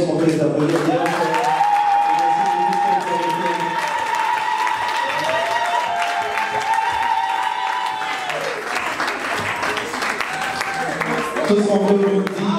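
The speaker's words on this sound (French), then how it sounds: "Est-ce qu'on peut les applaudir bien fort?" Audience applause at a live stage show, steady clapping from the crowd sustained for several seconds, with voices and tonal sounds running over it and the clapping continuing beneath.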